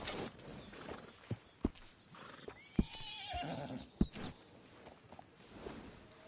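In the video game Red Dead Redemption 2, a horse whinnies amid clopping hooves and creaking during grooming, with sharp knocks scattered throughout; the sounds are fairly quiet and somewhat distant.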